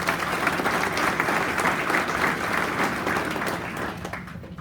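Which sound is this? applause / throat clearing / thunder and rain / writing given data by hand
applause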